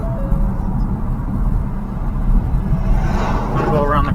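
A car coasting along a quiet road with its ignition key switched off while moving, giving a steady low rumble of tyres and road noise throughout, with a brief rising hiss near the end.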